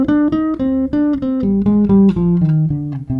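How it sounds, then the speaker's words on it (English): A natural minor scale played on electric bass guitar, individual plucked notes stepping downward one after another in an even rhythm, close and clear with no talking. "And here's a natural minor scale."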